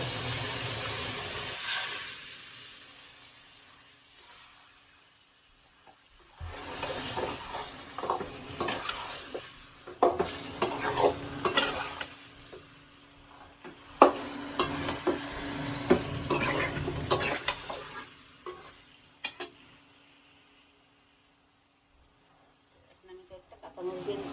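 Fish and a fish head frying in a pan, a steady sizzling hiss with bursts of stirring and scraping against the pan. Long loud stretches alternate with quieter gaps, close up in a home kitchen.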